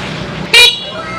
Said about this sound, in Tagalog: Pakinggan kaya natin ng busina.